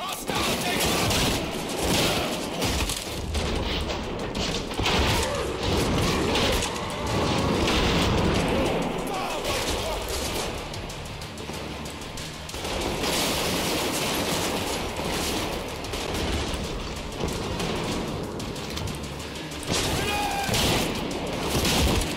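A heavy-recoil gun in Trepang2 fires in sustained, rapid automatic bursts. The loud, dense racket of shots continues almost without a break over constant combat noise.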